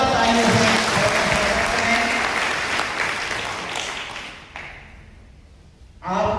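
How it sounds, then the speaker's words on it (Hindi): An audience at a college NEP 2020 orientation workshop breaks into loud, dense clapping that gradually thins and fades toward silence before a short burst returns at the very end. "एक बार जोरदार तालियों से"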